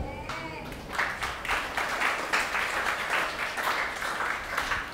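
Steady applause from a church congregation during a sermon fills the room, a dense patter of many hands clapping at once, swelling slightly and holding throughout.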